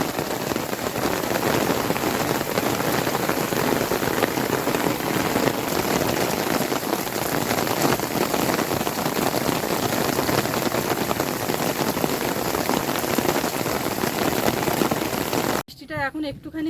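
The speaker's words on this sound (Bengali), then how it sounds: "এত জোরে বৃষ্টি হচ্ছে" Heavy downpour by a river in the Sundarbans, a loud, unbroken roar of rain on surfaces lasting the whole stretch, cutting off abruptly near the end.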